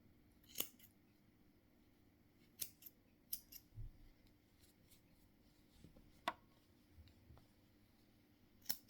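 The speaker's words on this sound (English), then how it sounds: "I'm just going to snip these off a bit shorter." Scissors snip yarn ends on a crocheted bag, a handful of short, crisp cuts spaced irregularly and heard up close against a quiet room.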